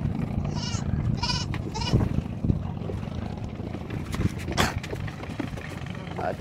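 Goats bleating repeatedly while being loaded onto a boat from Pulau Medang bound for Sumbawa, several sharp nearby bleats over engine and crowd rumble, with people talking throughout.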